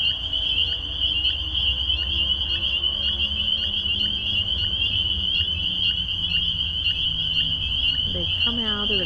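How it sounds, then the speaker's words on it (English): Spring peeper tree frogs call in a dense outdoor chorus, a steady high-pitched peeping that goes on without a break and stays loud throughout, with some lower croaks underneath and a few brief louder calls near the end. "right now it's mostly the spring peepers, and they're tree frogs"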